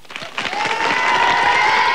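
A studio audience on a Belgian RTL TVI television show breaks into applause that swells within a second into a steady, dense wash of clapping, with a sustained tone running underneath.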